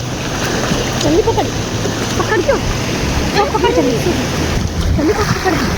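Sea waves splash and surge against a boat in repeated rushing bursts about every second or two, loud and close, with people talking and calling out over the water.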